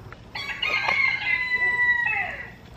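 A chicken calls out loudly up close, a drawn-out clucking squawk lasting a couple of seconds with no talk over it.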